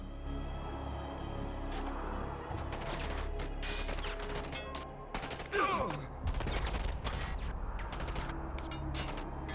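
Soldiers firing on enemy troops in the Command & Conquer 3: Tiberium Wars strategy game, a steady battle din of repeated gunfire bursts and impacts, with a loud crash or explosion midway.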